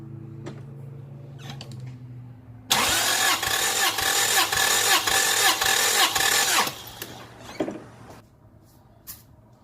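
The engine of a 1996 Toyota Corolla cranks loudly during a compression test, a rapid rhythmic churning of the starter for about four seconds that stops abruptly, with quieter clicks and clatter before and after.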